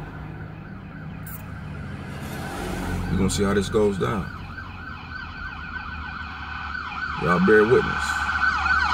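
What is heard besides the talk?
ambulance siren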